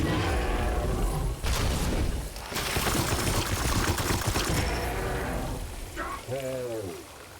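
Heavy sustained gunfire and support fire in Warhammer 40,000: Chaos Gate - Daemonhunters, a dense crackling barrage with booming impacts, trailing off as a voice briefly speaks near the end.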